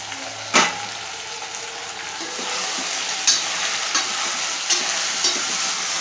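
Roughly chopped onions fry in a pan with a steady broadband sizzle, broken by a few sharp scrapes and clinks of stirring at intervals; no one speaks.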